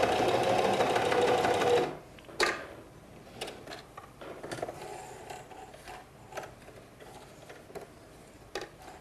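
A Singer Heavy Duty 4423 sewing machine stitches through five layers of denim, a fast, close mechanical whir for about two seconds, then it stops and a series of scattered clicks and ticks follows.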